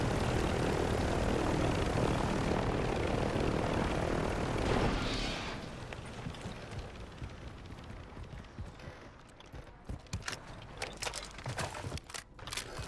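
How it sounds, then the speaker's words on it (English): A helicopter in a battle royale video game gives a loud, steady rotor and engine roar that drops sharply midway, then fades under a scatter of sharp gunfire cracks. "There's another helicopter here too."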